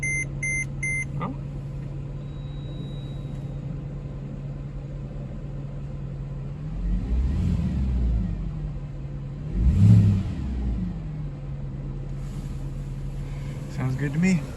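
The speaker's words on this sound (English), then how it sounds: "See how it sounds or if it's any different." A Mercedes ML63 AMG engine with a custom air intake idles steadily nearby, with two brief revs swelling and fading over the smooth hum.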